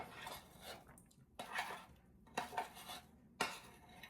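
A spoon scrapes and clinks against a bowl as protein paste is turned over, several separate scraping strokes with short quiet gaps, faint and close.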